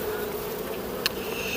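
Steady, dense buzzing of many honeybees close by on hive frames being transferred from a nucleus box to a full hive, a continuous drone with a brief sharp click partway through.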